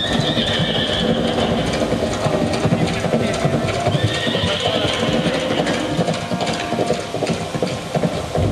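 Horse hooves clatter in a steady clip-clop with repeated whinnies in a light and sound show at a musical water fountain in Jammu, loud and continuous with a dense, mechanical-sounding rattle throughout.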